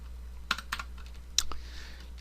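Computer keyboard keys pressed while using 3ds Max, with a few sharp clicks in two small clusters, close and faint against a low hum.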